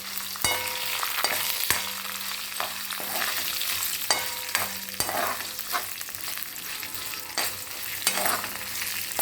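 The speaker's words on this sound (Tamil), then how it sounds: "மிளகா நல்லா சவக்கணும்." Dried red chillies fry in a pan, a constant loud sizzle with regular sharp clicks and scrapes of a stirring spoon against the pan, close up.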